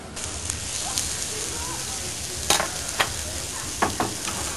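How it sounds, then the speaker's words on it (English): Sliced fillet steak frying in a hot pan with onions and garlic butter, giving a steady broad sizzle with a few sharper crackles and spits scattered through it. "now we're just going to add the fillet steak, which I've sliced"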